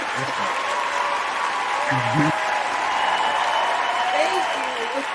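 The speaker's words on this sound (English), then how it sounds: "I'm gonna give you a round of applause for that." A radio show host applauds a guest during a virtual interview, with continuous clapping under voices talking throughout.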